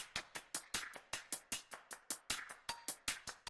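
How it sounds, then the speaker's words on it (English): Programmed pop drum pattern built on a driving hi-hat groove, a steady run of crisp, evenly spaced hits with varying accents, with other drum layers underneath, clean and up close. "From there, I programmed in this hat driving track, which with these other two tracks sounds like this."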